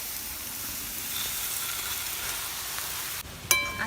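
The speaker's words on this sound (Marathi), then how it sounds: "आता हा जो भुगा आहे तो आपल्याला छान पोह्यांसारखा परतून घ्यायचा आहे" Crumbled bhakri with crushed garlic is stir-fried in a pan, giving a steady, moderate sizzle. A sharp clink of utensil on pan sounds near the end.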